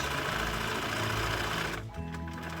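Sewing machine stitching a one-centimetre seam on a lined drawstring bag, a fast, even mechanical whirr close by that drops off near the end.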